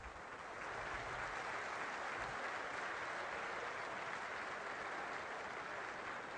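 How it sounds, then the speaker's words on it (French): Faint, distant applause from an audience at a live morning ceremony marking the end of mining at Merlebach, a steady wash of many hands clapping that continues evenly throughout. "On vous applaudit."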